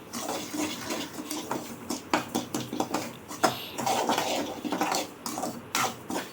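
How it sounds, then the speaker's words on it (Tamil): Samba semolina, about 200 grams, being dry-roasted and stirred in a kadai, giving continuous scraping and rattling with frequent soft clinks of a spoon against the pan, close and moderately loud, no talking. "ஒரு கடாயில ஒரு 200 கிராம் சம்பா ரவையை நல்லா வறுத்துக்க போறோம்"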